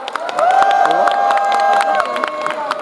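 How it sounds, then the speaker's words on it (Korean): Audience applause and cheering at an outdoor military-civilian festival after a soldier's song, a crowd clapping with scattered shouts while a sustained musical tone rings over it. "맞춰준 우리 이건유 상병에게 다시 한번 큰 박수 부탁드릴게요."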